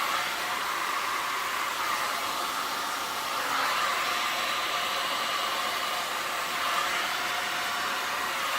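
Air blown steadily across freshly poured resin art on a round surface, a continuous broad hiss like a hair dryer, loud and close, holding at an even level throughout without any voices.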